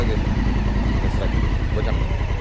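A touring motorcycle engine runs close by with a steady, rough mid-pitched drone, while a person talks over it.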